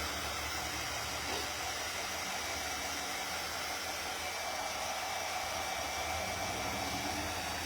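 A hair dryer runs steadily at close range, blowing over freshly applied craft paint on a mini block bookstack, a constant even whoosh with no breaks.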